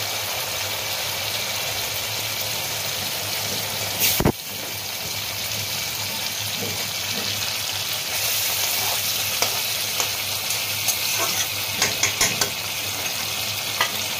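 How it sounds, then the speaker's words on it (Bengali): Hilsa fish pieces sizzle and fry steadily in hot oil in a pan for mustard hilsa, a continuous close frying hiss with one brief sharp burst when the fish goes in, no talking. "এরপরে আমি মাছগুলো দিচ্ছি।"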